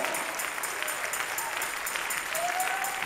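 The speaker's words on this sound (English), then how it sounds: "Come on and give God a hand clap of praise." A church congregation at a New Year's Eve watchnight service claps steadily in praise, soft and somewhat distant, with a faint voice rising briefly under the clapping.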